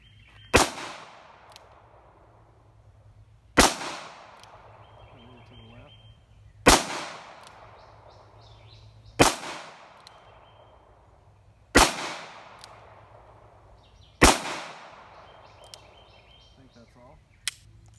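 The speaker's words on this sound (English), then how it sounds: "All right, 6 shots, no issues." Six loud revolver shots from .38 Special loads fired in trimmed .357 Magnum brass at a 7-yard target, evenly spaced about every two and a half seconds, each a sharp crack with a short decaying echo.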